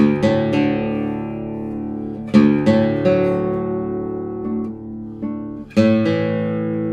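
Deep, resonant bass notes on a nylon-string guitar, plucked in a slow, booming sequence with rich ringing overtones and no voices.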